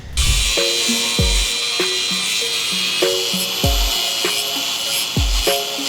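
A power tool cuts the side wings off a slot drain: a steady high buzzing whine runs throughout, broken by regular knocking bursts roughly every second. It is close and loud, with no talking.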